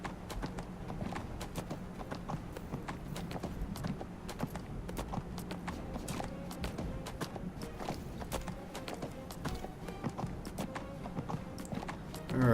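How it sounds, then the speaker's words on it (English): Horse hooves clip-clop steadily at a walking pace in the video game Neverwinter, a continuous rhythmic clatter at moderate loudness over faint game ambience. "Alright, getting off my horse."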